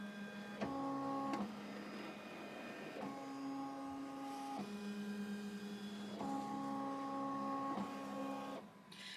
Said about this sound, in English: now I'm going to hit trace, and it's going to show me where exactly the design will stitch out